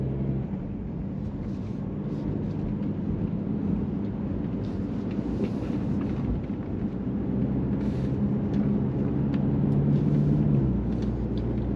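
A Mercedes-Benz E300 Coupé (C238) driving on a busy road in Gloucester, heading toward a dual carriageway, gives a steady, continuous low engine and road rumble with tyre noise throughout, no one talking.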